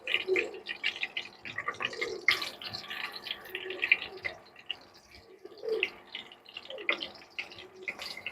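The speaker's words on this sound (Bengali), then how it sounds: "এখন আমি এই ফুলকপির পকোড়াগুলো ভেজে নেব।" Cauliflower pakoras bubbling in hot oil, an uneven close-up sizzle with bursts of popping and crackle that rise and fall over several seconds, no voices.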